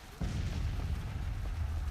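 Cannon artillery fire in a Civil War battle game, a heavy low boom opening after a brief lull and rumbling on continuously under a dense battlefield din.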